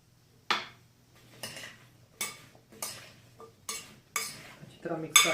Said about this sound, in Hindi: अच्छी तरह मिक्स कर लें।